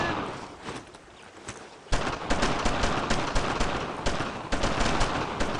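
Sustained gunfire from the World War II shooter Brothers In Arms: Road to Hill 30, fought on Utah Beach: dense overlapping rifle and machine-gun bursts that grow louder about two seconds in and continue heavily to the end.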